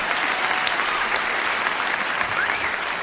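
A live audience applauds loudly and steadily, with dense, continuous clapping for a few seconds and no break.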